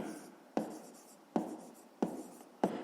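A pen writes numbers on paper while working a fifth-grade math exercise, with four distinct scratchy strokes close up, each starting with a sharp tap and trailing off, spaced at even intervals.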